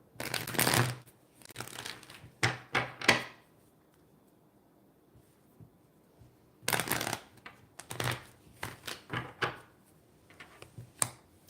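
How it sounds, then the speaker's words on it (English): Tarot cards are shuffled in quick riffling bursts, then pulled and laid down with soft slaps and flicks, separated by quiet pauses, close to the microphone with no talking. "you have to be aware of that question while I pull these cards out"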